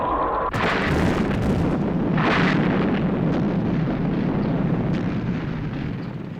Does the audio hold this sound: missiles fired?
yes